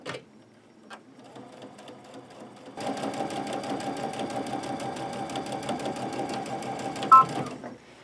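A sewing machine runs a straight stitch along a folded edge of fabric for a manicure bag. After a few quiet clicks, it stitches for about five seconds in a steady, even whir at close range and ends with a small clack.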